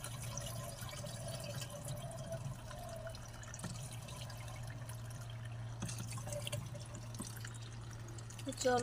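Water runs steadily into a tank, a continuous rushing fill with a low steady hum beneath and a few faint knocks, at moderate level throughout.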